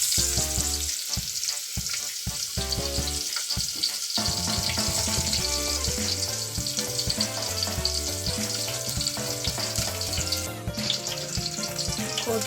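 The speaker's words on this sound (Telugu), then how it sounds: "ఫ్రెండ్స్, మనమైతే ఇప్పుడు నూనె పోసుకున్న తర్వాత ఉల్లిగడ్డలు అయితే వేసేసుకున్నాం." Sliced onions fry in oil in a pan for a village-style rabbit curry, giving a continuous, close, bright sizzle that runs throughout over background music.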